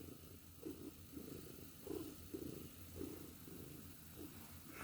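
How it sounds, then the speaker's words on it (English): Soft, rhythmic cat purring pulses repeat about every half second, faint and close, over a steady background hiss. "You just gonna purr?"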